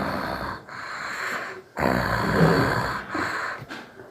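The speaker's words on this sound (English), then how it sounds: "Stop snoring right now." Repeated snoring with rough, snorting breaths, in three or four loud bursts separated by brief pauses, close and alone with no talk.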